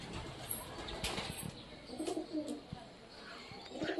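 Pet pigeons coo outdoors, a few soft, low rounded calls at a moderate distance against light background noise.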